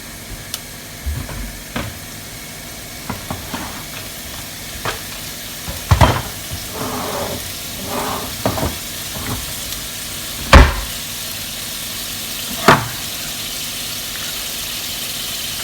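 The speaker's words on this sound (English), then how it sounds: "So you need to make sure you cook out your flour." Flour cooked out in a pan for a vegetable lasagna sauce: a steady low sizzle with scattered spoon scrapes and knocks against the pan, some sharper clinks standing out; no speech.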